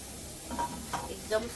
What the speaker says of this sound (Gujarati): તો હવે આપણે આ રાઈસ નાખી લઈશું